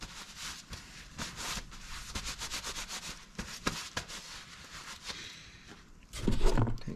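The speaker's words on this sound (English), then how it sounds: "Wipe my hands off real quick." A rag rubbed over hands during cylinder head reassembly on a GMC Canyon 3.5 engine: irregular close scuffing and rubbing strokes, soft and uneven, ending with a slightly louder clunk of handling.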